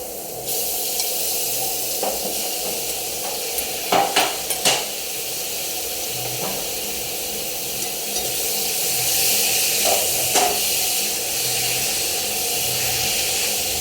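Chicken breast frying in a pan gives a steady hiss and sizzle, broken by a few clinks and scrapes of stirring, close and moderately loud with no talking.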